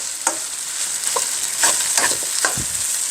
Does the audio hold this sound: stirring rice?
yes